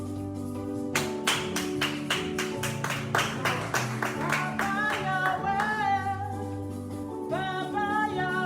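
A church congregation at a worship service claps in a steady rhythmic beat alongside music with sustained tones and rising melodic lines, the claps sharp and regular through most of the passage.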